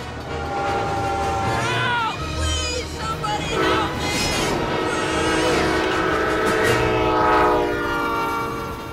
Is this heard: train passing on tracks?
yes